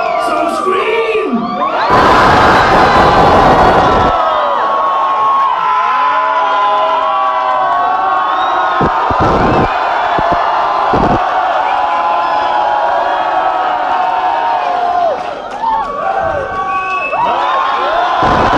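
Concert audience at a show in Warsaw screaming, whooping and cheering for an encore, loud and close, with a sharp burst early on, long sustained screams and scattered shouts.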